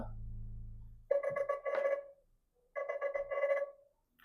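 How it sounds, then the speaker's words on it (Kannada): A Nothing Phone 3a ringtone plays a bright, melodic electronic tune in two bursts with a short pause between, following a low hum at the start. "ಯಾವ್ದಾದ್ರು ರಿಂಗ್ ಟೋನ್ ಪ್ಲೇ ಮಾಡಿ ತೋರಿಸ್ತೀನಿ ನೋಡಿ"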